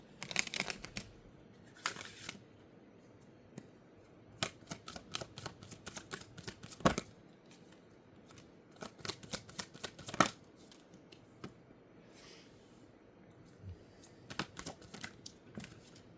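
Oracle and tarot cards are shuffled close by, giving repeated soft riffling and flicking bursts with quiet pauses between them.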